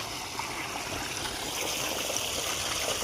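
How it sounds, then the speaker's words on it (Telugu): Water from a borewell motor pump gushes into a farm field, a steady rushing, splashing flow with a continuous trickling texture, moderately loud and uninterrupted. "ఇది మా బోరు మోటార్ వాటర్ వస్తున్నాయి పొలానికి ఇచ్చిన"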